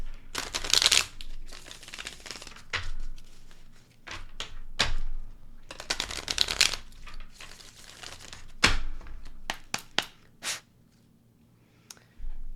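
A deck of playing cards is shuffled repeatedly in several quick riffling bursts, close and fairly loud, with short pauses and a few taps between them and no voices.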